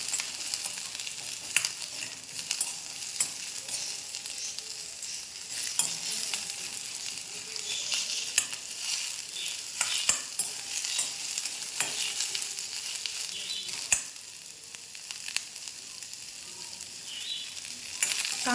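Onion frying in oil for a village-style chicken sukka, with a steady bright sizzle throughout and occasional clicks of a spatula against the pan.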